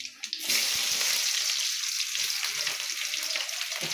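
Onions and black cumin hit a hot pan and burst into a loud, close sizzle after a brief clatter, then keep up a dense, steady crackling hiss until the end.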